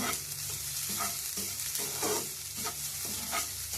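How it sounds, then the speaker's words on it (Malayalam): Unnakkaya filling mixture is stirred in a hot frying pan, with a steady sizzle and rhythmic scraping strokes of the spoon, close and alone. "ഈ മിക്സ് ഒന്ന് നന്നായിട്ട് ഇളക്കി കൊടുക്കാം"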